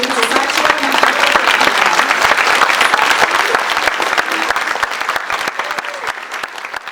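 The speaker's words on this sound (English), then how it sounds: "with a round of applause, let's welcome and wish a happy anniversary to Sachio Nakato" Loud, dense audience applause at a Japan America Society of Georgia gala dinner, welcoming restaurateur Sachio Nakato for a 50th anniversary. It runs steadily for seven seconds, with faint crowd voices beneath.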